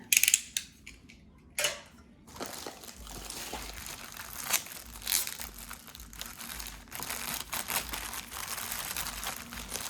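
Paper and plastic crinkle and rustle up close as a package is torn open, with sharp crackles early on and a steady crumpling handling after.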